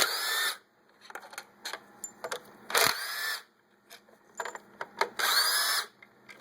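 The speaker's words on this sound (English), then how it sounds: "I'm using power tools, but you can do this by hand" A power drill spins out four 10 mm bolts on a Saturn 2.2L engine, close and loud, in several short whirring bursts separated by brief pauses.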